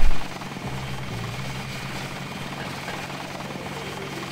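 Helicopter at an airfield in the video game Deus Ex, a steady loud thrumming rotor and engine drone that continues evenly after a brief louder burst at the start.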